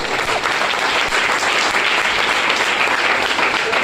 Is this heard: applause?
yes